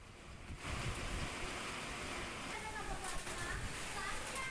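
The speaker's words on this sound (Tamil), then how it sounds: "1 மணி நேரத்திற்கு மேலாக காற்றுடன் கூடிய பெய்த கனமழையானது தற்போது சீரான ஒரு மிதமான மழையாக பெய்து கொண்டிருக்கிறது." Steady moderate rain falls after more than an hour of heavy wind-driven rain near the Madurai–Sivaganga district border, a dense continuous hiss that swells in just after the start and stays even throughout.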